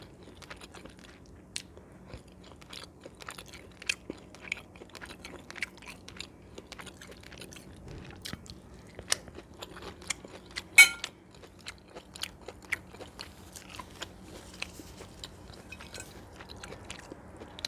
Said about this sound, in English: Let me taste these collards.